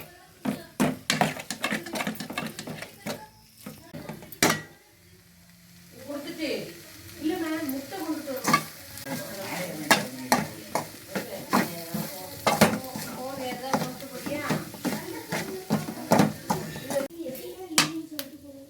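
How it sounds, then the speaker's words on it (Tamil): Goat blood fry is sautéed in a pan, and a utensil clacks and scrapes the metal over and over in a rapid irregular rhythm above a low sizzle, with a voice talking part of the time. "அடி பிடிச்சிடக்கூடாது. நல்லா ஃபைனாக நல்லா வதக்கிக்கிட்டே இருக்கணும்."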